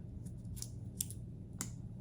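Backing being peeled off a gel eye mask with a fabric side, a few soft crisp rips and crackles at intervals, close and quiet, with no talking.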